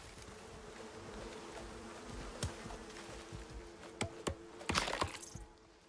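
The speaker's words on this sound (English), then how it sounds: "I hear bees." Bees buzzing in the survival game Icarus, a steady insect drone heard up close, with a few sharp cracks and clicking sounds near the end.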